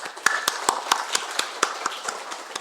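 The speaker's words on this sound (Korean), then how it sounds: "우리 박수로 환영하겠습니다." A church congregation claps in welcome during a service, a series of sharp, fairly evenly spaced claps that sound thin rather than like a large crowd, close and loud.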